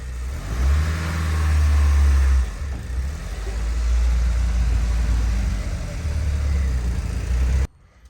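Engine of an abandoned Chevrolet Astro van with a sticky throttle, revving up loudly and close, holding high, then dropping back toward idle and surging again before cutting off abruptly.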